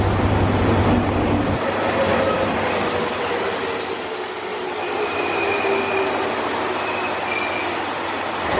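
Train at Kurume Station in Japan, with a loud low engine hum that drops away early, followed by steady rolling rumble and thin high wheel squeals at close range, no voices.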